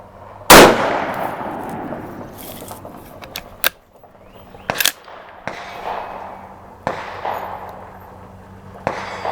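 A .308 rifle firing a group of IMR 4064 handloads with 168-grain Hornady BTHP bullets: loud, sharp individual shots spaced a second or more apart outdoors, each ending in a decaying echo, with quieter clanks between.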